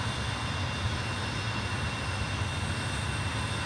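An M-346 Master jet taxiing in Microsoft Flight Simulator near Prague gives a steady, loud engine roar and whine that holds constant throughout without any other sounds.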